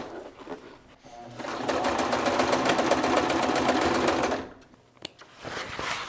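A sewing machine runs steadily for about three seconds, stitching along the edge of a fabric hydration sleeve with a fold turned under, then stops, followed by quiet handling sounds.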